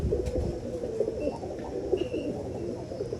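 A pure Galad breed pigeon coos in repeated soft, throaty phrases close by, over a low ambient hum.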